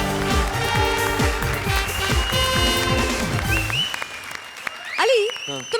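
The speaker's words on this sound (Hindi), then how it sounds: "जोरदार तालियां कपिल और पार्वती के लिए।" An audience applauds Kapil and Parvati on a televised comedy show, the clapping blended with a bright musical sting and sweeping sound effects that fade out near the end.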